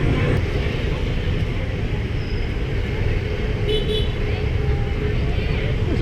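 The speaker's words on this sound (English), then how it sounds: "It looks like some sort of tour bus." A tour bus rolls along a busy Saigon street at night, its low engine rumble and road noise filling the scene steadily, with a brief horn-like toot and a voice talking over the traffic.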